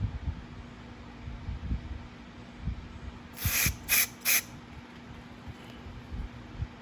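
Three short bursts of carb cleaner sprayed from a can onto the air bleeds of a 2009 Craftsman self-propelled lawnmower carburetor, close and hissing, over a quiet background with a faint steady hum.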